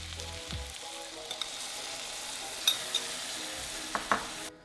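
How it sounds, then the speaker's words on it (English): Meat, salt and fermented milk sizzle in a hot stew pot, a steady close frying hiss broken by a few sharp clinks of stirring, with no voices. "After about 1 minute, add your meat, add some salt, add my fermented Lato milk."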